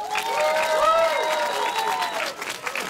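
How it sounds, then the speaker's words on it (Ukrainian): A crowd at an outdoor karaoke show in a public square applauds steadily beneath a loud, sung or tonal voice that dominates the foreground. "Оплески телевізору."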